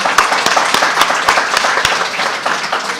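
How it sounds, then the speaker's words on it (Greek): An audience at a presentation claps in a lively, uneven burst, with individual sharp hand claps standing out over the crowd's steady patter, close and fairly loud. "ένα χειροκρότημα"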